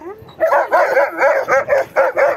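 A frightened dog barks repeatedly at close range, a rapid series of sharp, strained yelps and barks in quick rhythm with little pause between them.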